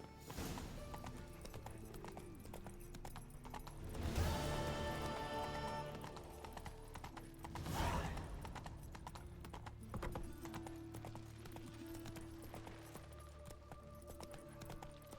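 Roach the horse galloping in Witcher 3: Wild Hunt, steady clip-clop hoofbeats running throughout, with a couple of louder swells and a brief whinny-like burst amid game sounds.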